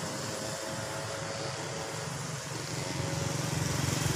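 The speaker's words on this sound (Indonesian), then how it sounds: "Saya coba bermain-main dengan drone DJI-RC H36F." A JJRC H36F toy drone flying, giving a steady, dense whirring buzz that holds unbroken throughout and swells slightly toward the end, heard alone without talk.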